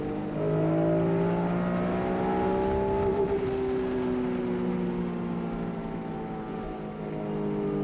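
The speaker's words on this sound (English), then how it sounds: "That was a VTEC kicking in." A naturally aspirated V6 in an Acura NSX revs up as VTEC engages, the engine tone climbing steadily in pitch and intensity before levelling off and easing back, heard from a moderate distance without talk.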